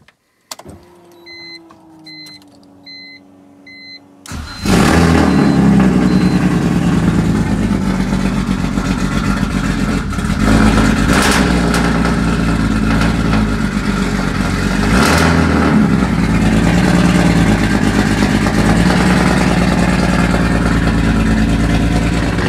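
An 800-plus-horsepower turbocharged BMW E46 engine starts after a few quiet seconds of faint beeps, catching suddenly and then running loud and close with a rough, steady idle and slight swells. No one talks.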